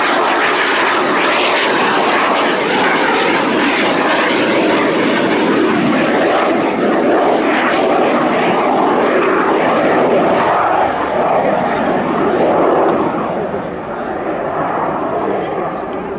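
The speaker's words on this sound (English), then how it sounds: "Here it comes past with an arrestor hook dangling from the rear." A Fouga CM175 Zephyr naval jet passes by at an air display with its arrestor hook hanging down, a broad, loud engine roar holding steady throughout, while a commentator talks over it.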